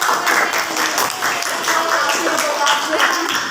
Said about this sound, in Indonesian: Tepuk tangan untuk kelas.